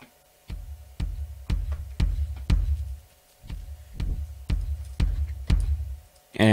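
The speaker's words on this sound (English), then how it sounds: "Now the kick drum would fade in, cut out and fade in again" Programmed electronic kick drum in Sonic Pi, a steady run of deep thumps that swells in loudness, drops briefly to near silence, then builds again before a final tone cuts in.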